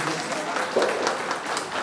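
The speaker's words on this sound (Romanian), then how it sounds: "Haideți încă o dată să o aplaudăm" Audience applause at a celebration honoring couples married 50 years, a dense, steady patter of clapping with a murmur of voices mixed in, brief and fairly loud.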